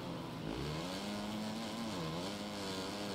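A motocross bike engine in MXGP 2021 struggling for grip out of a corner, a loud sustained buzzing rev that dips and climbs in pitch as the throttle changes, steady and close with no voices.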